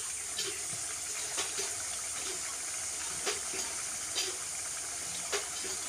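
Semolina sweet flowers sizzling as they fry in hot mustard oil, a steady hissing crackle throughout with small pops and bubbling bursts every second or so, close and fairly loud, with no voices.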